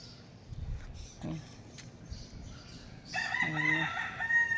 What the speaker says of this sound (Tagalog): Tumilaok na 'yung ano, manok.